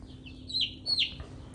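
Chickens kept in a brooder cluck and chirp in two short, fairly close bursts over a low background hum.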